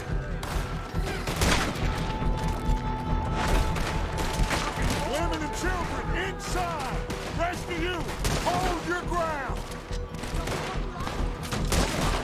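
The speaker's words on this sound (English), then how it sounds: "I love the Springfield rifle." Rifle fire from a Springfield rifle in Red Dead Redemption 2, in a shootout with the O'Driscolls, with repeated sharp shots amid a busy gunfight, and a voice talking over the action.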